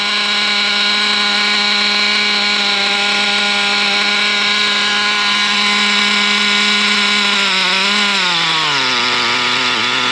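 Traxxas T-Maxx nitro RC truck engine running at a very high idle, a loud close buzzing whine held steady, then dropping in pitch near the end as the idle comes down.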